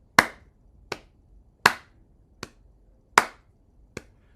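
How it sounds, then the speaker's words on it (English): Hands clap a 2/4 rhythm, six sharp claps in even pulses with every other clap louder and more accented, close and dry against near silence. "So if we clap, we emphasize the first one a little more than the second."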